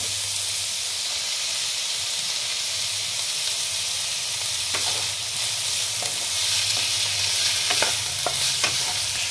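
Chopped carrots and cabbage hiss and sizzle loudly in a hot pan for vegetable fried rice, with stirring scrapes and clicks picking up toward the end.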